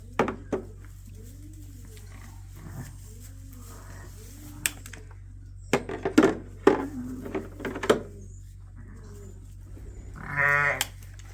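Young Geronimo lambs on a sheep farm bleating intermittently at close range, with handling noises and occasional knocks, ending in one louder drawn-out bleat.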